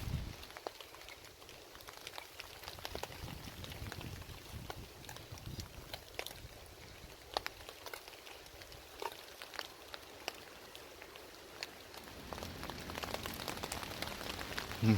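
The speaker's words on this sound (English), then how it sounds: "Is there any better sound than rain on a tarp?" Faint, steady patter of rain drumming on a DD 3x3 tarp shelter during wild camping in bad weather, a soft continuous hiss with scattered sharper drops, close overhead and with no talking.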